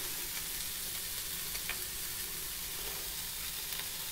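Tomatoes sautéing in a pan make a steady, soft sizzle with a few faint stirring scrapes, close by, and no talking.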